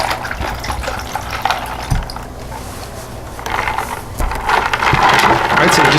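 Liquid poured into a glass for a bourbon and mint sweet tea julep, a close gurgling stream with clinks and mechanical clicks, swelling louder toward the end.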